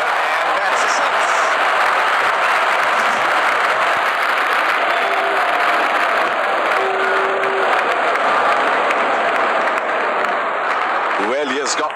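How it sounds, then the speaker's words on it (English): A cricket stadium crowd in an ODI between Pakistan and Sri Lanka roars and cheers after a six, a dense, loud, continuous wash of cheering and clapping with a commentator's voice faintly over it. "Crowd is going crazy."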